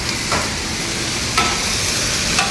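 Pork liver stir-frying in a pan, a steady broad sizzle with a few brief scraping stirs of a utensil spaced through the clip, close and continuous with no talking.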